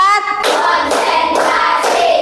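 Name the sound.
class hand-clapping rhythm, four claps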